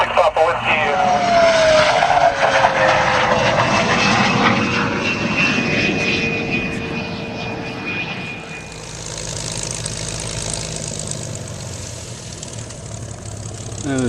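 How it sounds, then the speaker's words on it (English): A propeller tow plane passes overhead at a glider field in Hollister, California, its engine drone rising loud and then shifting pitch as it goes by, with a person talking over the noise. "And this is our tow plane coming over."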